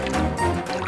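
A spoonful of water is poured out in a short, close liquid trickle and splash that lasts under a second.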